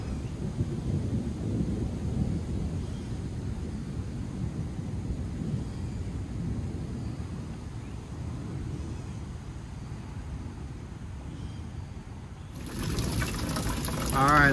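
Rainwater pours steadily into collection buckets during a storm, making a continuous dense splashing and trickling roar that swells louder near the end.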